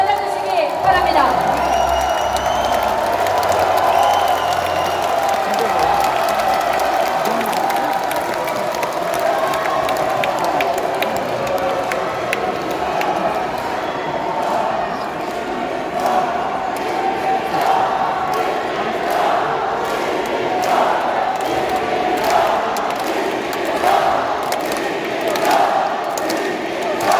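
A crowd at a Democratic Party national convention in Jeonbuk applauds and cheers to welcome party leader candidate Kim Min-seok, a dense, sustained roar of clapping and voices throughout with a tonal announcement at the start.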